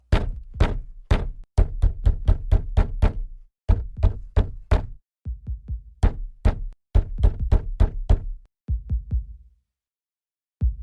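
Heavy knocks on a door in an old-time radio drama come in rapid groups of three to five, pausing between bursts, loud and close with no talking.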